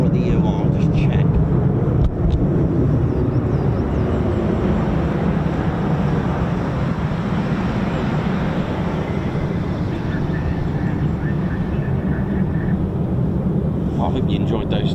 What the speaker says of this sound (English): Spooling in the distance